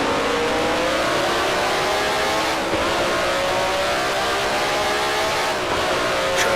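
A Cooper race car in the 1968 Grand Prix Legends sim sounds its engine continuously and loudly, revving up and shifting through the gears, with the pitch rising and dropping at each change and no talk.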